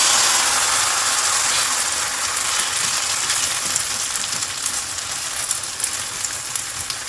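Steady, dense sizzling and crackling of battered sponge gourd frying in hot oil, loud and continuous throughout with no talking.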